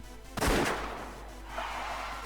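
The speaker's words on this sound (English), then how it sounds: "The gunshot throws off the rider's concentration, causing him to crash." A single sharp shot from a Tokarev pistol in a visual novel sound effect, loud and close, trailing into a brief rumbling decay and low background noise.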